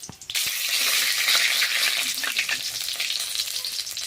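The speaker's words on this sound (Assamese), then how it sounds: "এয়া মোৰ তেল পকিলে, মই এতিয়া ইয়াতে অকণমান সৰিয়হ দিছোঁ। ফুটিব দেই ঠিক চাই।" Mustard seeds and dried chillies fry in hot oil, a loud, dense sizzle that erupts after a couple of sharp pops and keeps crackling steadily, close up and without talk.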